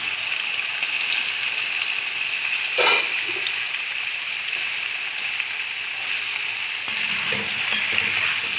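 Sliced potatoes frying in moderately hot ghee in a karahi, a steady, dense, close sizzle that holds evenly throughout, broken by a brief stir or shift of the pan near the start and another near the end.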